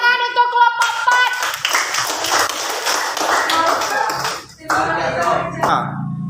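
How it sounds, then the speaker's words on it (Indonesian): Classroom audience of university students claps for a group presentation, scattered taps and slaps starting after a short voice, then a busier burst of hand claps with chatter mixed in. "Tepuk tangan untuk kelompok"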